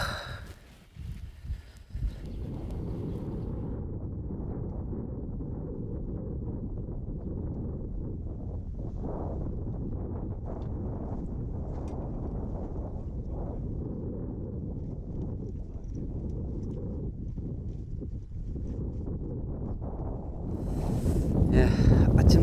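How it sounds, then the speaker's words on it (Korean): Strong wind blows across a flat lotus-field reservoir, buffeting the microphone as a continuous low roar that holds steady for a long stretch and swells louder near the end. "지금 바람이 너무 지금 건세게 불고 있습니다"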